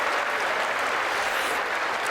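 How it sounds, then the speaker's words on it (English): Dense, steady applause from the chamber at the close of a State of the Union address by President Trump, a broad continuous roar of many hands with no talking. "Absorbing the applause right there"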